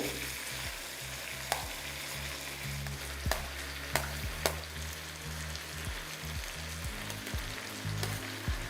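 Ridge gourd fries in a pan with a steady sizzle as previously fried vegetables are added. Sharp clacks and thuds from utensils and pieces dropping in punctuate the constant hiss, with no talking.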